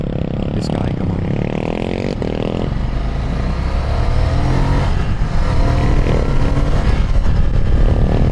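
A Ducati Scrambler L-twin two-cylinder motorcycle engine revs loud and close, with a continuous throaty roar that rises in pitch as it accelerates through the mid-range, steady throughout with no voices.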